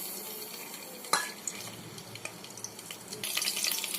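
Garam masala sizzling in hot oil in a kadhai while making Dhaba-style chicken gravy, a soft steady crackle with stirring scrapes and a few sharper clicks, growing busier near the end; no talk.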